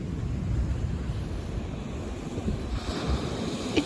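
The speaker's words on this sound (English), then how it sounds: "but when these waves hit these rocks," Ocean waves crash against rocks on the Icelandic coast, making a deep, continuous thunder-like roar that stays close and loud with no voices.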